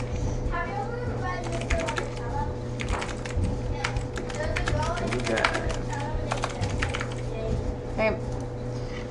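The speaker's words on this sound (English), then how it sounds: "I'm going to type a message." Fingers tap quickly on a computer keyboard while a message is typed, making a run of light, irregular clicks under a low steady hum, with someone speaking over the typing.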